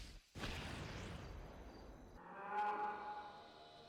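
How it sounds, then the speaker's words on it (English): Cattle in the Dr. Stone anime give a low, drawn-out moo against a quiet outdoor backdrop, with an insect-like chirp and faint ambience later on. "Look, cows."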